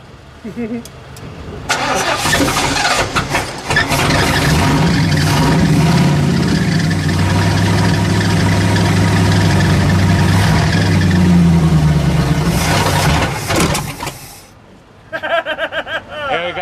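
A car engine cranks and catches, then runs loud and steady for about twelve seconds before cutting out abruptly, with a few brief rattles afterward.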